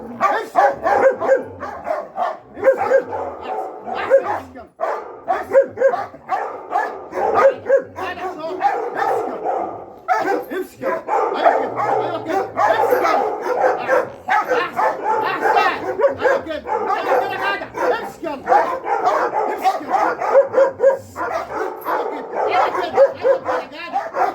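A dog barks and yips in quick, repeated bursts close by, with occasional whimpers and a person's voice mixed in throughout.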